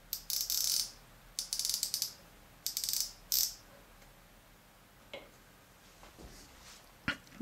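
A machine tool retracts with the spindle stopped, giving several short clustered mechanical rattles and clicks at close range, followed by quieter scattered ticks and knocks.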